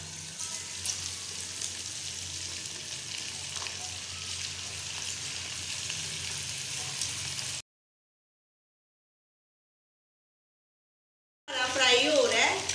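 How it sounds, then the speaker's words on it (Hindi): Chicken coated in salt, red chilli and cornflour fries in hot oil with a steady crackling sizzle for several seconds, then falls silent before a louder burst of bubbling returns. "फ्राई हो रहा है।"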